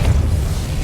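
A brief Depulso force blast from Hogwarts Legacy, under a second long, with a loud, thick low-end thump and rumble and no voices over it.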